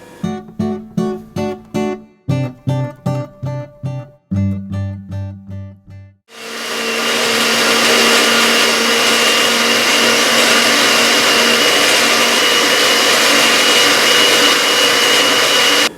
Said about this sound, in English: To make a good sauce, you need to blend it.